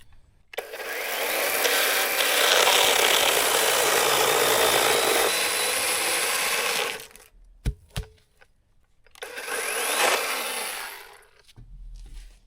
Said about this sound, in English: that chainsaw makes life so much easier